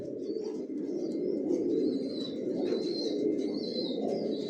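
Pigeons settled in a new bedding loft fitted with overhead grilles, giving a steady, close chorus of low cooing with occasional soft wing flutters and faint chirps throughout, no talking.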